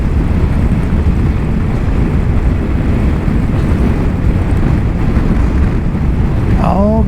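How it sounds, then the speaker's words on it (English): Heavy wind buffeting a vehicle driving a highway through the Arizona desert, a loud, constant low roar, with a brief rising voice-like whine near the end. "A little bit windy today."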